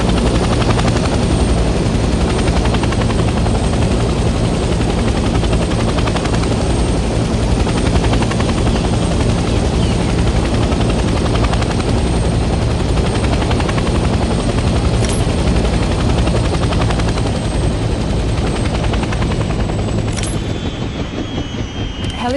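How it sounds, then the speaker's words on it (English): In the Vietnam-era video game Hell Let Loose, a helicopter engine runs loud and close with a constant throbbing rotor chop and turbine whine that holds steady throughout. "land the helicopter on a helipad and turn the engine off"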